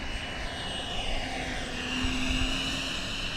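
A Taft Hobby Valkyrie 90mm EDF RC jet makes a slow pass, its steady ducted-fan whine droning continuously and swelling slightly as it passes, with a sustained tonal hum throughout.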